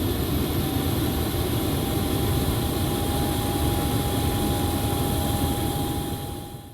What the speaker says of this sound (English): They used feedback from actual ground crew for the external engine start sounds